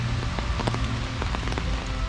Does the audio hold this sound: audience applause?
no